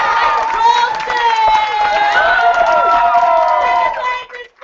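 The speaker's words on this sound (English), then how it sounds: "start clapping and don't stop" A school poetry slam audience claps and cheers through a results announcement. Whoops and shrill, wavering cheers rise over steady applause, loud and close, before fading at the end.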